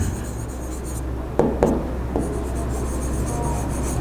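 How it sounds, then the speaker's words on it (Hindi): A pen scratching out an index by hand on paper, with soft continuous scraping over steady room hum and a few sharper strokes near the middle, without any speech. "मैं एक बार ये इंडेक्स आपको लिख ही देता हूँ।"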